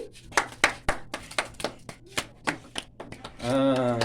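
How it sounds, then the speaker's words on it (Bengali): A series of sharp hand claps at an uneven pace, fairly close, followed by a voice starting up near the end. "হাততালি"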